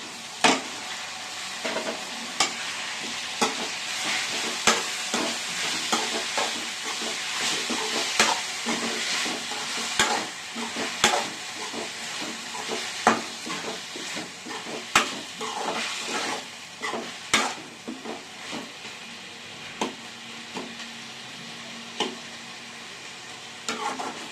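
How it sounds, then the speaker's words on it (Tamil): Chopped onions and tomatoes sautéing in a pan for a crab masala, a steady broadband sizzle broken by repeated sharp scrapes and clacks of a stirring spoon, close and continuous with no talk. "வெங்காயம் தக்காளி நல்லா வதங்கிடுச்சு."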